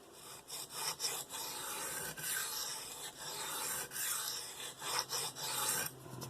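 A Spyderco Paramilitary 2 knife with an S30V steel blade is sharpened on a DMT diamond stone, giving steady rasping strokes in a continuous rhythm with brief pauses, close and moderately loud, with no talk.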